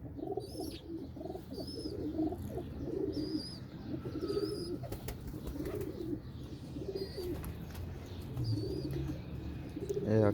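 Pigeons coo in repeated soft, throaty phrases at close range, joined by scattered higher chirps from other birds, with no talking over them.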